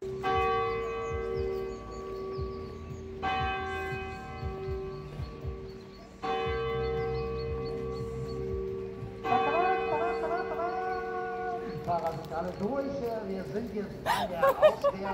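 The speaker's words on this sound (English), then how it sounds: "Did the guy just interrupt the church bell?" A church bell in Bad Wildbad rings in slow, regular strikes with long ringing tones, while people talk and chuckle nearby over the top of it.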